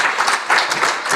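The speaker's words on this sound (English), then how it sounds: "you should clap for yourselves" Audience applause at a women's anti-money-laundering and counter-terrorist-financing conference in Africa, a steady dense wash of many hands clapping throughout, fairly loud, no talk over it.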